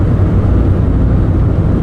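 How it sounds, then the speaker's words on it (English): Road traffic on narrow roads passes close by, a loud, continuous low engine rumble with no voices. "Oh, traffic."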